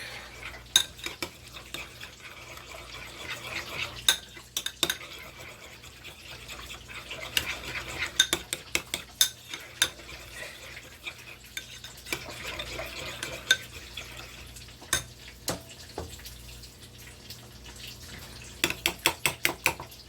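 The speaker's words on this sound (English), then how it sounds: "We grab a spoon and we give it a stir." A spoon stirs ketchup in a bowl or pot, sounding as repeated light clinks and scrapes in irregular bursts against a quiet kitchen background, loudest near the end.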